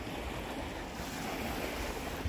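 Ocean waves wash onto the seashore in a steady, broad roar, with wind buffeting the microphone throughout and no voices.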